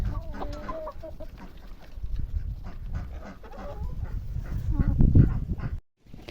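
Broody hens clucking outdoors on a cold, frosty day in a snowy yard, soft scattered clucks in a steady run, with some barnyard background noise and a possible dog.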